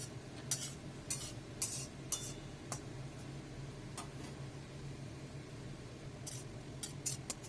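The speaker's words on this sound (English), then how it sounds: "When the jeera is crackled, we will add 1 chopped tomato and fry it for a while" Cumin seeds crackle while sauteing in a pan with dry red chilies, giving sharp, irregular pops and ticks over a low, steady sizzle, fairly faint and with no voice.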